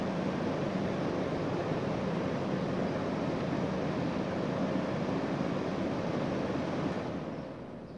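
A window air conditioner compressor trying and failing to start on a solar inverter setup, heard as a steady, loud broadband rush and hum that holds for about seven seconds before tapering off at the end.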